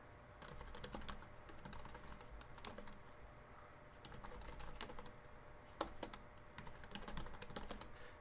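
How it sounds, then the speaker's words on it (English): Rapid keystrokes clatter on a computer keyboard while router configuration commands are entered, steady and fairly close with small pauses between bursts of typing. "I typed in a bunch of commands on router 1"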